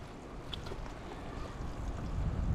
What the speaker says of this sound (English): The wind keeps blowing.